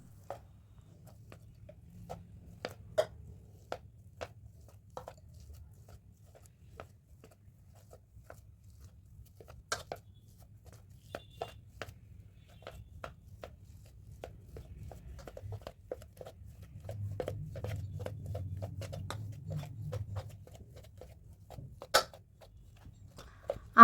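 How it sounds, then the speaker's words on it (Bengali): About 300 grams of boiled potatoes being mashed by hand make soft, irregular taps, thuds and squishes, quiet and close, with a denser stretch of pressing near the end. "এখন ভালোভাবে আলুগুলোকে ম্যাশ করে নিব"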